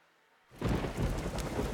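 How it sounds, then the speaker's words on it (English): Heavy pouring rain with a low rumble of thunder in a radio advertisement, starting abruptly after a short silence and then holding as a dense, loud, steady wash. "It's pouring rain. It's real dark outside."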